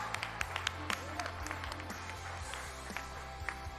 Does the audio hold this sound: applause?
yes